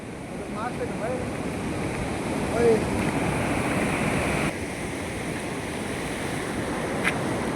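Broad, steady rushing of the flooded Godavari River, a continuous roar of fast water that stays loud and even throughout, with no voices over it.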